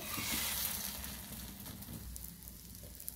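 Puran poli, a sweet stuffed flatbread, fries in oil on a flat pan, giving a soft, steady sizzle with faint crackles, close and quiet with no talk.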